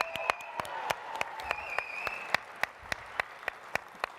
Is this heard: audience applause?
yes